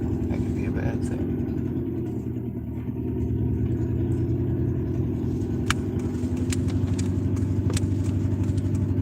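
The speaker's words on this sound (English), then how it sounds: "Oh, there's a car there." A car engine hums close by at a steady level for the whole stretch, with someone talking over the noise.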